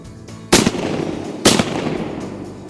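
Shotgun blasts at a greenhead mallard during an Arkansas timber duck hunt over decoys: two loud, sharp reports about a second apart, each trailing off into a rolling echo over the woods.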